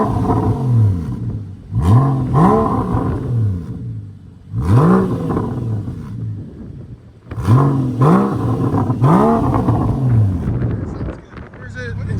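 A 2014 Porsche Boxster S with its 3.4-litre flat-six and a Netami turbo resonator revs up repeatedly in loud rising and falling surges, outdoors with wind noise and construction around.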